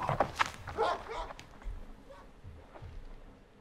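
In a horror video game, a dog barks and yips close by in several quick bursts as it runs past with footsteps, then fades into softer, more distant sounds.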